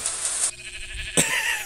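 Two bleating sheep in a Minecraft movie teaser, one bleat after another with a short gap between them, fairly close and clear with no talk over them.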